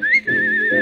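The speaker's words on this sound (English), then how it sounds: "when you hear me whistling under the moon" Sustained whistled melody from a vintage dance-band song recording, one clear tone gliding gently up then holding steady over soft band accompaniment, with a brief dip near the start.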